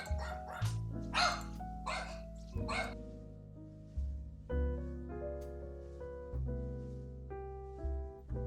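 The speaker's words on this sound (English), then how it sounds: "Oh, yeah, my dog's in." A dog barks repeatedly at close range, short loud woofs in uneven bursts, with a few longer whining calls among the barks.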